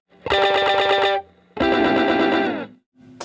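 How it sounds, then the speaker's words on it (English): An electric guitar with heavy delay plays two bursts of repeating, echoing notes that swell in and cut out, separated by a brief silence. "we're kind of going for the delay sound here, so it pops in and out"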